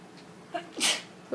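A single sharp sneeze bursts out close and loud, preceded by a brief intake of breath, against a quiet room background.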